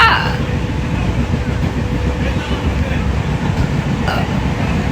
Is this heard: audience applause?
no